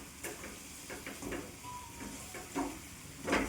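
Green pigeon pea kachori filling stirred and mixed in a hot pan, with soft sizzling under intermittent scraping and stirring strokes, several louder pushes spaced a beat apart.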